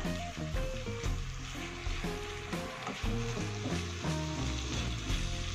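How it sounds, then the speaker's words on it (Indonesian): Chicken stirred in a frying pan for Indonesian ayam ungkep kalasan, with a loud close sizzle and repeated scraping of the utensil over a steady background hum. "Ini kita aduk sampai merata."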